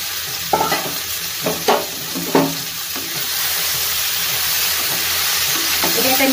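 Loud, close frying as hot-water-soaked soya chunks are sautéed in a pan, with several spatula scrapes early on, then a steady hissing sizzle that builds.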